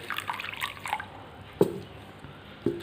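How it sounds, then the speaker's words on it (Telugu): Water is poured onto a little coarse salt, giving a few short, quiet trickles and splashy drips at irregular moments with near silence between them. "సాల్ట్ కొంచెం తీసుకోండి దాంట్లో నీళ్ళు పోయండి"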